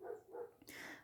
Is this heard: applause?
no